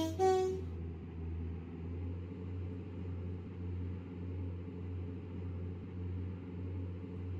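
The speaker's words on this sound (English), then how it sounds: "Sound the horn." A train horn sounds briefly at the start in a British Railways video game, a short toot over a steady low engine rumble that continues alone for several seconds.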